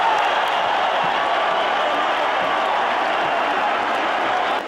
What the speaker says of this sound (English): Both for the fighters deserve a hand of applause